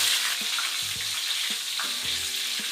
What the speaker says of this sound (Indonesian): Andalimannya juga digoreng sebentar doang ya.